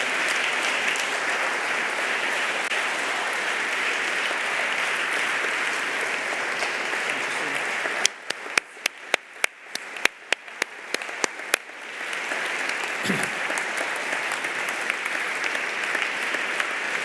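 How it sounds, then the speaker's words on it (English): An audience at a lecture applauds an award recipient with sustained, dense clapping that thins into scattered claps midway before swelling again, with a faint voice near the end. "Please help me in applauding him."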